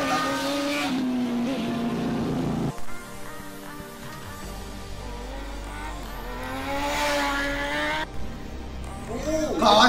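A Kawasaki H2 motorcycle engine revs and roars on a race track in Karachi during heavy bike racing, its rising and falling pitch running steadily through the clip while people talk loudly over it.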